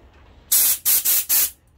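Three sharp bursts of compressed air hiss from an Impax 222-24L air compressor, each about a quarter second long, loud and close with short gaps between them, alone without talk.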